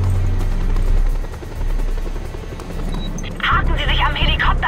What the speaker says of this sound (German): Ich schicke einen Helikopter, der Sie abholt.